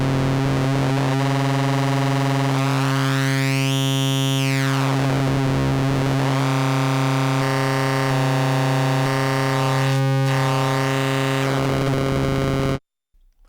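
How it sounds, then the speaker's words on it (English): A loud, sustained FM-style synthesizer oscillator tone from an Analogue Solutions AMPLE, with shifting metallic, bell-like harmonics that sweep up and down, playing alone before cutting off abruptly near the end. "So we're getting FM tones or FM style tones with that."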